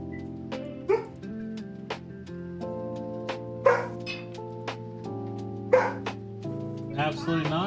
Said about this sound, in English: Goodness, puppy dog.